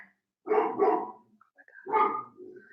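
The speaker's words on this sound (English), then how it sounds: "Obnoxious dog. She may stop barking." An excitable dog barks indoors: two quick, loud barks, a brief pause, then another bark trailing into a softer yelp, close to the listener with no talking.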